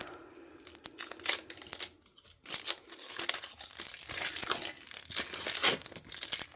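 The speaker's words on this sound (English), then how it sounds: "And let's peel this back." Protective backing being peeled off a plastic shrink sheet, a close crinkling and tearing rustle that runs in uneven bursts with a short pause early on, with no talk.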